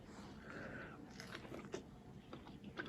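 Someone bites and chews into a fresh British-grown fig, with soft wet crunches and a few sharp clicky bites up close, fairly quiet and irregular.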